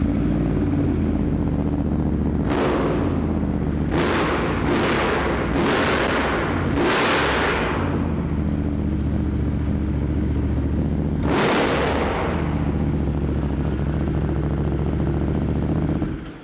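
A Ducati Multistrada 1260S with an Akrapovic titanium exhaust runs nearby, its steady engine drone broken by several loud, sharp revving bursts and pops, one large blip coming alone after a gap.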